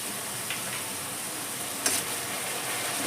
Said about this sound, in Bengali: মশলাগুলোকে যে আবার আমি খুব ভালো করে কষিয়ে নেবো।